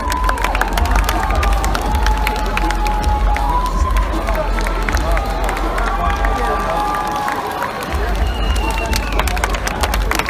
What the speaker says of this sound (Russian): Это очень реальные аплодисменты.